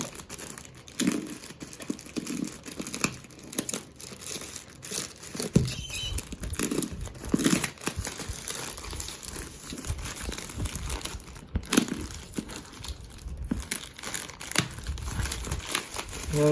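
A Monster notebook parcel delivered by Aras Kargo is unwrapped, with continuous close crinkling and tearing of packaging paper and plastic, steady rustling bursts throughout with no talk.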